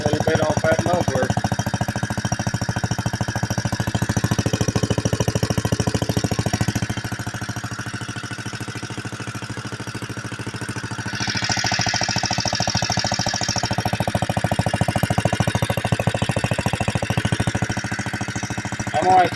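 An 81-year-old Briggs & Stratton NR6 small engine keeps running with a steady knocking rhythm, briefly quieter near the middle, while a person talks over it.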